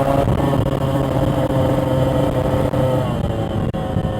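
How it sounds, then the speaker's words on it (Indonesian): A Yamaha RX King two-stroke motorcycle at full throttle on a road ride in Makassar, loud and close, a continuous raspy engine roar held steady throughout. "Jadi mari kita fokus berkendara guys ya. gaspol."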